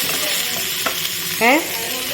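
Onions frying in a pan for a home-cooked tomato roast, with a soft background sizzle and a few scraping stirs, plus a brief tonal squeak near the end; no talking.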